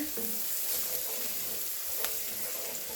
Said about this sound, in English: And we're just going to stir this up. Cook that flour.